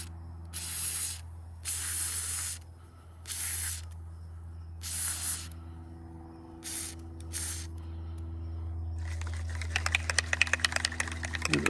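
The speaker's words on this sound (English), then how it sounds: "we're gonna hit it with a little PB blaster, see if we can't get some penetrating oil to get down in there and do the trick" PB Blaster penetrating oil sprays from an aerosol can in several separate hissing bursts, close by and fairly loud over a low background hum, ending in a longer crackly spray near the end.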